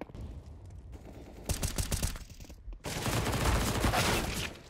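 Glock pistol fire in a competitive video game match, bursts of rapid crackling shots in two clusters with a brief quiet gap between, moderately loud.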